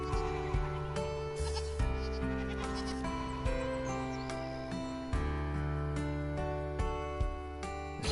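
In Farm Manager 2022, a farm game, goats bleat now and then over steady background music, the calls fairly close and mixed with a faint buzzing like insects.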